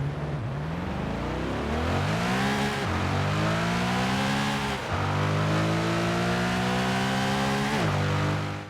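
A Chevrolet Corvette Z06 engine in Forza Horizon 5 revs hard through several gears, rising in pitch then dropping at each shift, loud and continuous with no talking.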